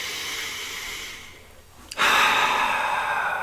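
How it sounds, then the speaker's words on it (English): A slow, deep breath drawn and released during a guided gratitude meditation, a soft airy hiss that dips into a brief pause, then swells into a louder, steady exhale. "Take another deep breath."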